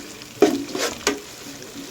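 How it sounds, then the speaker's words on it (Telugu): Chicken curry masala paste frying in a pan, a soft, close sizzle broken by two sharp stirring scrapes of a spoon against the pan, with no voices. "పచ్చివాసన పోయేదాకా వేయించుకోవాలి."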